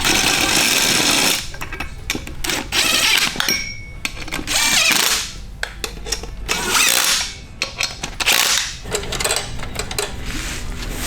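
A power impact tool tightens the rear wheel hub on a Honda Fat Cat big-tire dirt bike, loud bursts of rattling buzz repeated in short runs with brief pauses between, close by with no talk.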